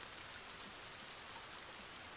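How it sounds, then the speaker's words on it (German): Steady rain pours down in the survival game Sons Of The Forest, a dense, even hiss of drops on surfaces with no pauses throughout. "Bei dem pissigen Regen."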